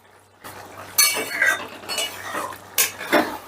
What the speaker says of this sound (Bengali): একটু নেড়ে চেড়ে মিশিয়ে দিয়ে